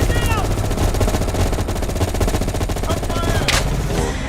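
Sustained automatic M16 rifle fire in Call of Duty Black Ops Cold War, a loud rapid unbroken rattle of shots with game effects layered underneath throughout.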